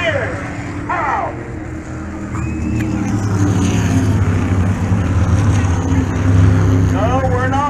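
Modified race cars roar off the start of a heat race at Jennerstown Speedway, a dense, loud engine drone building steadily under a track announcer's voice over the PA.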